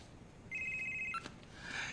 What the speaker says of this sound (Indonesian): Dan tiba-tiba HP-nya berbunyi